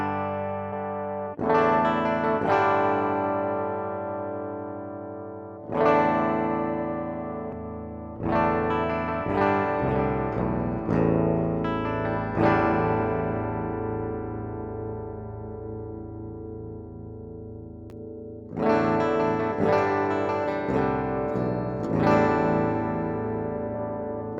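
Electric guitar DI signal played through an amp-modeling plugin, distorted chords and sustained notes ringing out with chorus shimmer, loud and up close, no talking.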